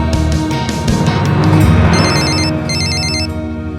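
Mobile phone ringtone for a late-night call, a rapid warbling electronic trill repeating in bursts over a steady bed of music, loud and close, with no talk.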